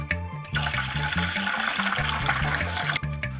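Water running steadily from a tap into a vessel while tea is being made at home, a continuous splashing stream that starts after a brief pause and stops abruptly near the end, with a repeating low hum beneath.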